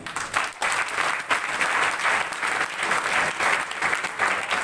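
Sustained applause from a seminar audience in a Kota hall, many hands clapping densely and steadily for several seconds with no speech over it.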